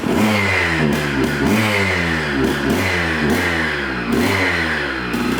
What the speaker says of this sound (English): Trying to find a sweet spot here with the throttle and the idle